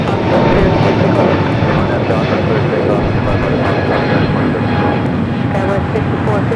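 A United airliner takes off at Los Angeles International Airport, its engines roaring loud and steady throughout, with a faint radio voice underneath.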